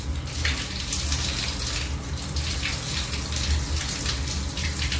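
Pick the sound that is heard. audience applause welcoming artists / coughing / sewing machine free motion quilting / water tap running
water tap running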